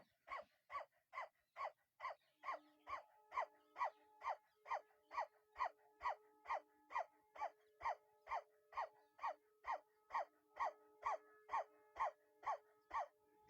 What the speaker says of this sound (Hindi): जीभ को पूरी बाहर रखते हुए 30 टाइम जल्दी जल्दी एक्सेल करेंगे। Start dog breathing.